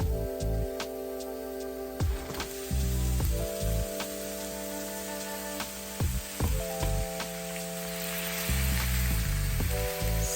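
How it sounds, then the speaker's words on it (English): Ground beef and onion fry in a pan with a loud, steady sizzle and crackle, broken by repeated sharp clicks and scrapes of stirring and utensil taps against the pan. "So I usually like to cook the ground beef until it looks a little bit golden brown"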